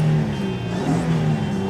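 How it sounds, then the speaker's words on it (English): A 2011 Honda Pilot EX-L 4WD with a V6 engine and 161,000 miles runs close by, a steady smooth hum with a slight swell in revs partway through before settling back to idle. "Revs up nicely, it idles smoothly"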